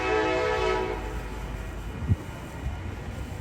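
Amtrak Capitol Corridor train 529 rolls past 98th Avenue in Oakland, opening with a loud, close horn blast that fades into the steady rumble of the passing train, alone without voices.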